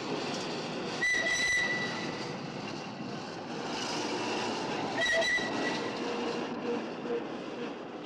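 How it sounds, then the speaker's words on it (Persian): Railway locomotive near Bandar Shah depot halting on a rainy night before a flood-damaged bridge, with two sharp whistle blasts over a steady rumbling train noise as it comes to a stop. "ترن شما دقیقاً کجا متوقف شد؟"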